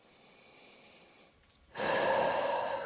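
Breathing during a vinyasa yoga flow: a soft, quiet breath, a brief pause, then a louder, longer airy exhale, close to the ear with no talking.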